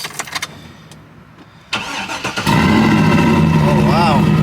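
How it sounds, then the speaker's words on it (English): A Chevrolet Trailblazer SUV engine, unstarted for a week, cranks briefly, then catches and settles into a loud, steady idle close by, with a voice speaking over the start. "we're actually going to see if the Trailblazer starts, because we haven't started her up in a week."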